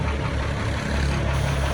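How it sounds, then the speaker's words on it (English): A Mercedes-Benz diesel water truck engine runs steadily at close range, a loud, continuous low rumble that holds level throughout with no speech over it. "It's a diesel engine."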